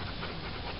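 A wet dog pants rapidly and breathily on an outdoor nature walk, close by and steady through a brief moment.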